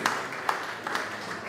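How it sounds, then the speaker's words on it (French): A church congregation at a resurrection service applauds: a few distinct sharp claps stand out over a softer, scattered patter of hands, moderately distant and fairly quiet. "peut applaudir encore notre Seigneur"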